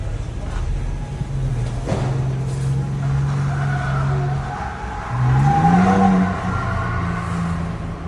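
A 2024 Ford Ranger Raptor crawls off-road in trail control, its engine a low steady drone that swells and shifts pitch partway through, with faint talk in the cabin.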